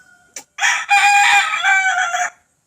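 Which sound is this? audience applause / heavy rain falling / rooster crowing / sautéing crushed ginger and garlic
rooster crowing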